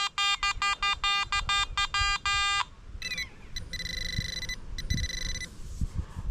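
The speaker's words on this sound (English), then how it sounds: "Here's my detector. Here's the iron ore." A metal detector held over a light rock of iron ore gives a rapid series of loud, pulsing electronic beeps, then softer, broken tones follow with light handling noise.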